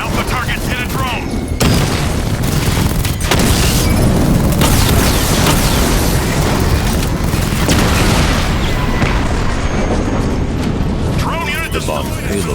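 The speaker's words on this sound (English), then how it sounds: "bomb's payload is exploded" A bomb payload exploding in Batman: Arkham Knight, a loud sustained rumbling roar of blasts and debris filling the scene, with heavy booming bursts and voices talking over it.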